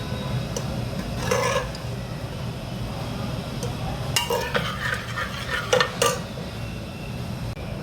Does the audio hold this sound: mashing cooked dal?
yes